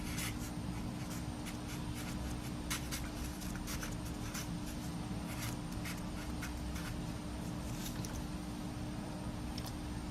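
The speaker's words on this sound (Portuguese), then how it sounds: "Ó, vou escrever aqui do lado." A marker or chalk scratches across a classroom board in a physics lesson, steady rubbing strokes with short tapping accents continuing for about ten seconds over a constant low background hum.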